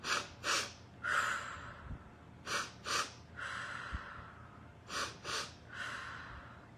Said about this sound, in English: do a couple of quick breaths before you deep breathe